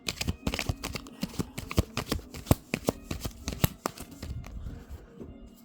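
A deck of tarot cards is shuffled up close, a rapid run of crisp flicking snaps that keep a loose rhythm and then trail off, with no talking.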